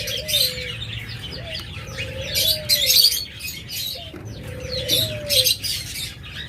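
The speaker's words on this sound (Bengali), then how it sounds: "ডায়মন্ড ডাবগুলো নেবেন" Caged diamond doves at a bird sale coo in long, rising, repeated notes while bright chirps and tweets chatter around them, close and lively, with no talking.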